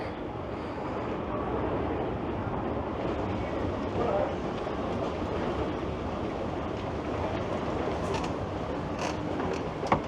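A busy Union Station in Toronto hums with a low rumble and mechanical noise from commuter GO trains, while a crowd murmurs and occasional clanks and squeals ring out near the end.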